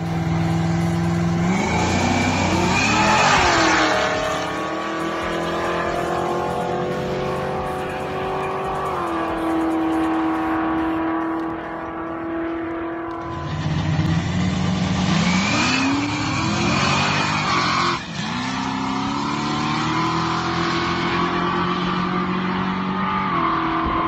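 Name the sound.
blown 347 Vortec street car racing from a dig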